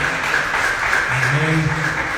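A church congregation claps together throughout, while a voice speaks over the applause.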